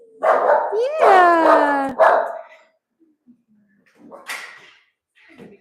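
Newly rescued dogs at a dog rescue let out a rising whine and a burst of loud, close barks, followed by quieter scattered yips and whimpers, while a person briefly speaks.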